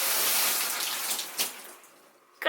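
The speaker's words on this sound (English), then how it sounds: "gonna turn on the water" A newly installed bathroom sink faucet runs in a steady hiss of flowing water that fades toward the end before a sharp clatter, with nobody speaking.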